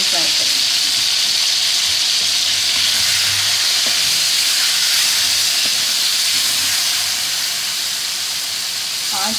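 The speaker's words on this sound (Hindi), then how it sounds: "ये हमने जो पेस्ट बनाया था लहसुन और प्याज का और हरी मिर्च का, इसको हम फ्राई करेंगे" A paste of garlic, onion and green chili fries in a pan with chicken for an Afghani karahi, giving a loud, steady close sizzle and hiss throughout, with faint scraping of stirring.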